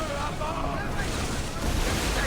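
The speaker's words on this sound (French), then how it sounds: "Non mais regarde les vagues, s'il te plaît." Ocean waves roll and crash steadily around a sinking pirate ship in a video game, a dense, continuous wash of surf and wind noise.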